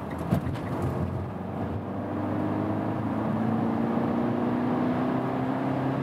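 A Mitsubishi Eclipse Cross SUV accelerates hard in third gear from about 60 to 100 km/h, its turbocharged engine note rising steadily in pitch and loudness, heard from inside the cabin without talk.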